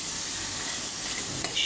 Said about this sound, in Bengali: ঢাকনাটা খুলে এখন আবারও নেড়ে দিব।